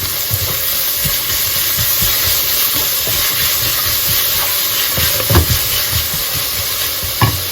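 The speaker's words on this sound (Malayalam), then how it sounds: "ഞാൻ ഉള്ളി ഇടാൻ പോവാണ് അതിലേക്ക്" Onions sizzling in hot oil in a pan for a Kerala-style chicken curry, a steady dense frying hiss with occasional stirring scrapes and clinks, close and fairly loud throughout.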